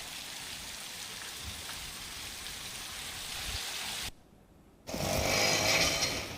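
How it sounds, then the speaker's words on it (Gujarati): Heavy rain pours down on villages around Lathi in Amreli district, Gujarat, as a constant broad hiss, cut by a short near-silent gap before the downpour resumes slightly louder. "ગ્રામ્ય પંથકમાં વરસાદ વરસી રહ્યો છે"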